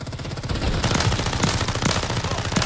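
Rapid automatic gunfire from a Modern Warfare 3 multiplayer match: a loud, dense burst of shots that keeps going with barely a break, close up, with no talking.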